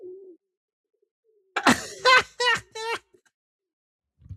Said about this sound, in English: that's definitely a horny pigeon